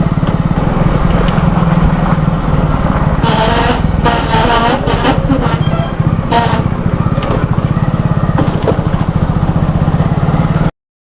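A vehicle on a rough road during the Ganpati festival near Guhagar makes a loud, steady engine drone that stays close and continuous, with a rattly, buzzing edge, before it abruptly cuts off.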